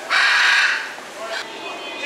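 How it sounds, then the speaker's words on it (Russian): Penguins and other birds squawk loudly inside the Dubai Mall aquarium, one long harsh cry followed by shorter calls echoing in the enclosed hall. "Я не знаю, слышно меня либо нет, потому что птицы кричат"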